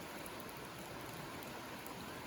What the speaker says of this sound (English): It's raining, and it's snowing, and it's sleeting, and it's wet